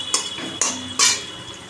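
Fried teasel gourd being turned in a pan, three separate scraping strokes of a spatula against the metal with a faint sizzle behind them, close and brief.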